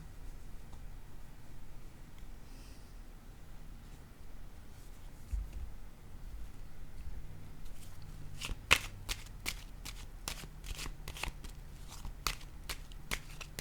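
Tarot cards shuffled, then laid out one by one, with soft brushing and a rapid run of crisp flicks and taps close by, a low murmur underneath.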